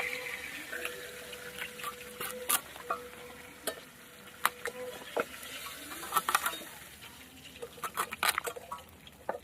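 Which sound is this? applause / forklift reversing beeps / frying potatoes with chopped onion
frying potatoes with chopped onion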